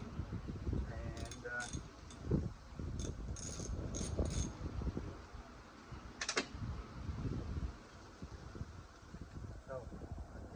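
An 8mm socket wrench ratchets on engine mount bolts of a 2011 Volvo XC, giving several short bursts of clicking amid low workshop rustling and handling noise, fairly faint and close.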